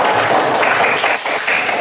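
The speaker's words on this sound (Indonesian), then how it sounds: "Tepuk tangan untuk kelompok 1" Students in a classroom applaud group 1 in a short, lively burst of clapping that fills the room for about two seconds.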